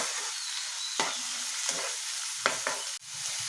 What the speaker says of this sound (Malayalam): കുറച്ച് നേരം ഒന്ന് വഴന്നോട്ടെ